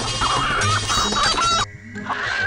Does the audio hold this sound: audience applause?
no